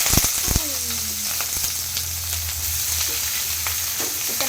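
Oil sizzles and spits steadily in a pan on a home stove, a close, loud, continuous frying hiss with a few sharp knocks and clatters early on.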